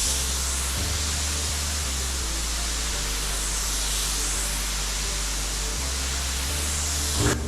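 Honda Civic EG body being sprayed with a medium wet primer coat from an HVLP gun with a 1.7 fluid tip, a steady unbroken hiss of air and atomized paint running close and loud throughout, with no talking.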